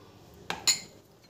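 Pieces of pomegranate, banana and apple being mixed in a bowl, two quick close clinks of a spoon against the bowl over a quiet background.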